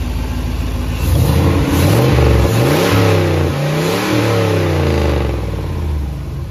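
Turbocharged LS V8 with a 5.3 bottom end, LS1 heads and LS1 cam, swapped into a Honda S2000, revving loud and close, the pitch climbing and falling through several rises under a steady rumble.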